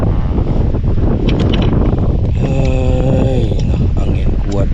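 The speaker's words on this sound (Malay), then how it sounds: "Angin kuat bang." Strong wind buffets the microphone with a constant loud roar and rumble, while faint tonal sounds briefly rise and fall partway through.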